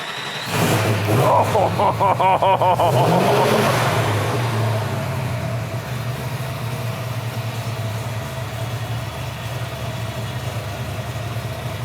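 A 1970 Boss 302 or 1968 Shelby GT350 Mustang V8 cranks and fires up loud and close, then settles into a steady rumbling idle that runs throughout.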